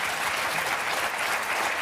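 A French television studio audience bursts into dense, sustained applause, many hands clapping close and loud with no pause throughout.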